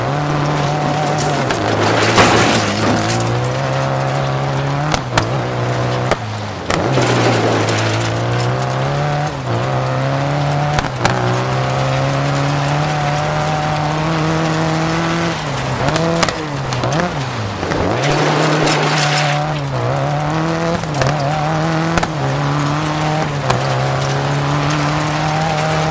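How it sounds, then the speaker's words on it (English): A rally car in Dirt 4 revs hard through handbrake turns, its engine note climbing and dropping in repeated sweeps over the run, with short bursts of tire squeal and gravel skid between the sustained roar. "You only need to hit the handbrake for a moment to get the car to rotate."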